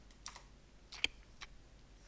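A computer keyboard clicks through a few quiet, sparse keystrokes, with one sharper tap standing out near the middle against a near-silent room.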